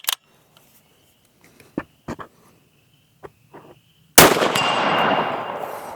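A single sharp, loud crack of a Ruger American 6.5 Creedmoor rifle fired freehand outdoors, followed by a long fading echo over a quiet background of faint clicks and insect-like chirps.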